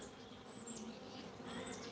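Honeybees in a hive colony give off a steady buzzing hum that swells twice, close by, with no voices.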